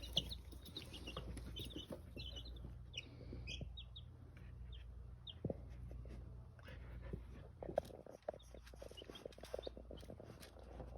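Faint chickens cluck and chirp intermittently in the background amid soft rustling, with a few louder knocks and scrapes nearby.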